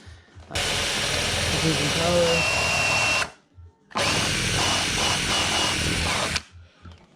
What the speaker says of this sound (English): And then we have to drill the holes for the front